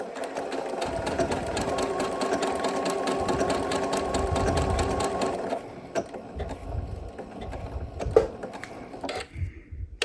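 A sewing machine stitches an appliqué using its cornering feature, running in a fast steady mechanical chatter for several seconds, then breaking into short bursts and pauses with clicks as it turns corners.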